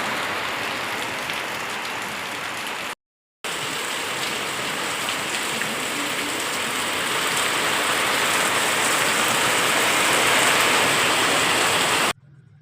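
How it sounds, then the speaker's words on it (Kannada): Steady rain falls near a temple and its rest house, a dense even hiss of drops on surfaces with a short break, swelling slightly louder toward the end. "ಮಳೆ ಬರ್ತಾ ಇದೆ ಅದರಲ್ಲೇ"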